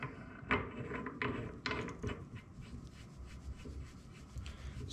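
A metal valve being screwed into the neck of a carbon fiber air tank, giving close scraping, rubbing turns with a few sharper clicks early on, alone with no talking.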